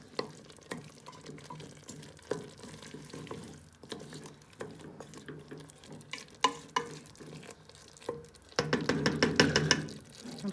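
Beef trotters with spices are stirred in a cooking pot, giving scattered scrapes and knocks before a louder sizzling burst near the end, close and without talk.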